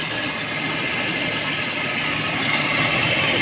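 The 2001 Toyota Kijang LSX EFI engine idles close by with a steady, even mechanical hum and buzz, and no one speaks.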